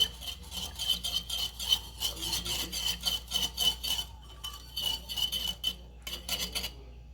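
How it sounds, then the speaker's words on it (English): Milk and butter are whisked in a bowl, a fast rhythmic scraping and ticking of the whisk against the bowl close up, with brief pauses between bursts. "let's just give it a little whisk here"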